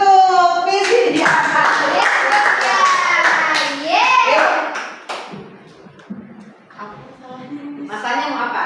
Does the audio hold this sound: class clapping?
yes